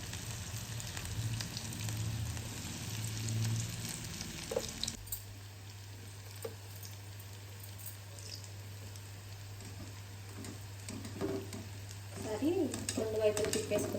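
Steady crackling sizzle of chitti garelu dough frying in hot oil, dense and continuous with a low hum, fading partway through and then picking back up near the end.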